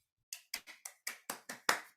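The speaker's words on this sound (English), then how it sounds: "Please welcome her with a warm round of applause." A few sparse hand claps sound at a small English public speaking meeting, about eight sharp, separate claps in a loose, uneven rhythm, close and isolated against silence.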